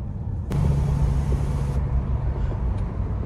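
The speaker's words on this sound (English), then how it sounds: "Sounds like you can hear the turbo a lot more through the exhaust." A Ford F350 dually truck drives at steady cruise with a constant engine and exhaust drone, and turbo whistle comes through the exhaust.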